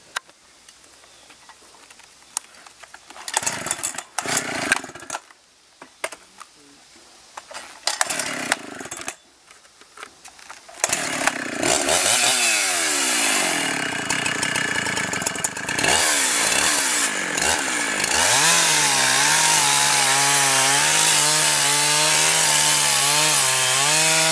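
A chainsaw mounted on a beam machine rips through rough lumber, starting with quieter intermittent bursts and shifting into a loud, continuous cutting whine that rises and falls as the bar bites into the wood.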